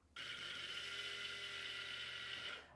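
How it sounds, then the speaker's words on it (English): A small electric spice mixer grinds sugar in one steady, high-pitched whir lasting about two and a half seconds, starting and stopping abruptly, faint and alone. "I'm gonna put it in my spice mixer just so I can grind it into a"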